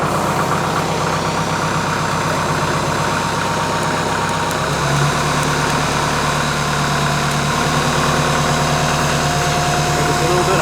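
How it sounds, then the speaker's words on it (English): A Kubota M5660 SU tractor idling close by, a steady diesel chug with a faint whine from the hydraulics rising over it partway through. "There's a little bit of hydraulic whine"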